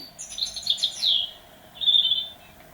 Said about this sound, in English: you obviously read the story and then press the chirp